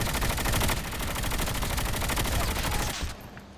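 Dense automatic gunfire in the Call of Duty Mobile shooter game, a loud continuous rattle of rapid shots that fades out near the end.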